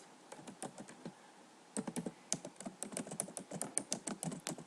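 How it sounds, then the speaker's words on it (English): Rapid clicking of a computer keyboard as names and an address are typed in, a pause near the start, then steady bursts of keystrokes close by, with no talking. "And then you can type the address."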